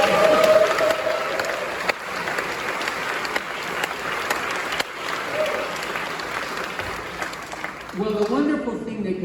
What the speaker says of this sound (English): Round of applause, Julie.